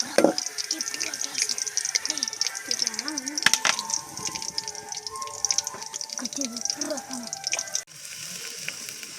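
Food sizzles and scrapes steadily in a pan as it is sautéed and stirred for a Tamil kootanchoru (mixed rice) dish, with someone talking over the cooking throughout.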